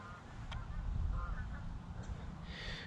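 Geese flying overhead honking faintly and at a distance, a few scattered calls over a low rumble of outdoor park ambience.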